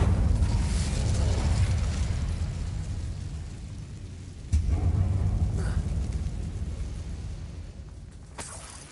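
A fire spell cast in Hogwarts Legacy bursts into a loud, rumbling roar that sustains for several seconds. A second surge comes about halfway through, and it all fades with a faint crackle at the end.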